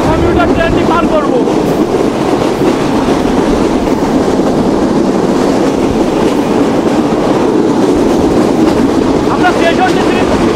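Chitra Express passenger train running in Bangladesh, a loud continuous rumble with rhythmic clickety-clack of wheels on rail and wind rush heard from aboard.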